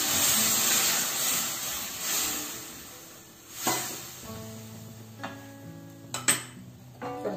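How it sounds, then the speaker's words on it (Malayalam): Water poured into a pot of Kerala chicken curry masala with potatoes, a steady hissing rush that gives way to soft clinks of utensils and brief knocks of pots, close and fairly quiet. "കുറച്ച് പാകത്തിന് കുറച്ച് വെള്ളവും ഒഴിച്ചു കൊടുക്കാം"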